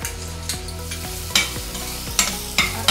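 Ginger garlic paste sautéing with browned onion for a prawn rice dish, a loud steady sizzle broken by several sharp scraping stirs of a spoon against the pan, with no voices.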